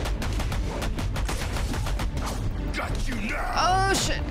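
Rapid gunfire in the video game Batman Arkham Origins, a dense burst of loud repeated shots over the first few seconds, followed by game sound effects with a rising tone.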